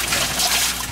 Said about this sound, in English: Allow some of the water to drain.